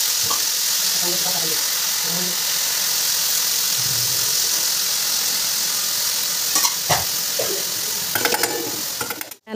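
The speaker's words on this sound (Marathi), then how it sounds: "त्यानंतर मी भाजीत तेल, तिखट, हळद, जिरं, मीठ, शेंगदाण्याचं कूट टाकून भाजीला फोडणी दिली." Spring onion greens frying in a pan with oil, chilli powder, turmeric, cumin, salt and crushed peanuts, a steady close sizzle with a few stirring scrapes near the end.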